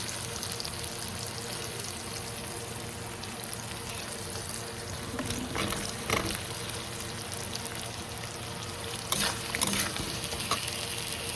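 Mushrooms going into a hot pan and frying, a soft continuous sizzle with faint stirring and scraping, a few brighter crackles and clatters near the middle and end, fairly quiet overall.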